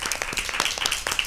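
An audience at a Christmas Bible quiz in a girls' high school claps to welcome the two quiz teams, a brief burst of dense, lively applause with no talking.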